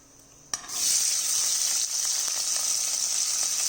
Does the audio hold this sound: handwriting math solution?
no